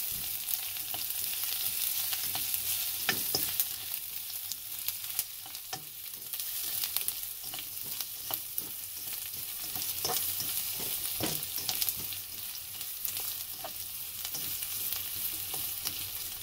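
Ginger sautés with cooked onion in a pan, a continuous close sizzle broken by frequent crackles and stirring scrapes, with no talking.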